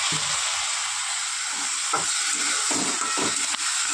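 Masala being sautéed in a pan sizzles and hisses steadily, with soft, irregular scraping and stirring strokes rising out of the continuous frying noise.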